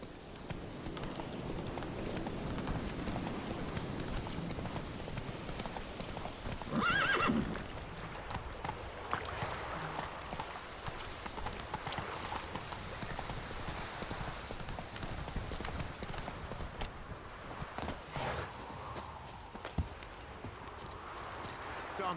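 A horse in The Witcher 3 gallops with quick, rhythmic hoofbeats and gives a loud neigh early on, with game sounds around it.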